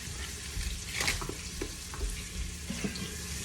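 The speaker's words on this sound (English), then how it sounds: "we're going to saute these in the bacon fat and the olive oil" Onions sauté in bacon fat and olive oil in an electric pressure cooker pot, giving a steady, moderate sizzle with a few brief clicks and stirring scrapes, with no voices.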